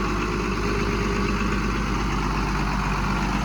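A new Scout TD-1304c tractor engine idles steadily with a deep, even rumble and constant vibration, loud and close, running alone with no talk.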